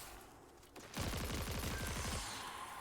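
Rapid automatic gunfire from a near-recoilless weapon in the video game Destiny 2, a steady burst of evenly spaced shots lasting about a second and a half, loud and close, with no talking.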